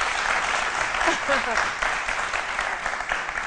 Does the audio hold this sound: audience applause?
yes